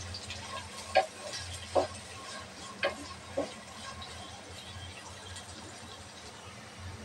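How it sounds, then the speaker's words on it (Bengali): Chopped onion and four sliced green chillies fry in hot oil in a pan, giving a steady low sizzle with a few sharp stirring clinks scattered through. "পেঁয়াজটা আমি ভালোভাবে ভেজে নেব।"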